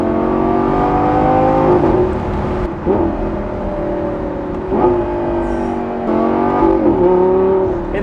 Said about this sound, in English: Oh, this car wants to be revved out.